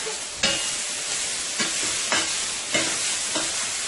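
Onions caramelizing in a hot pan give a constant close hiss, broken by several sharp stirring scrapes about once a second, with no talking.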